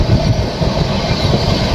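Coaches of the Secunderabad to Delhi Holi Special Express roll steadily along the rails, giving a close, continuous rumble with a rhythmic clickety-clack of wheels over joints and no voices.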